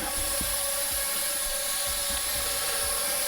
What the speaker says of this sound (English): I'm going to move it towards the wall, stick forward, and as you can see, the drone comes back.